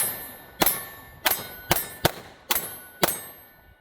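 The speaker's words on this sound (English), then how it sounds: "Let's try out some one-handed shots here, see how well it performs." A 9mm pistol, a Springfield Hellcat Pro, is fired one-handed outdoors, producing six sharp, loud shots spaced about half a second apart, each with a brief ringing decay and no speech.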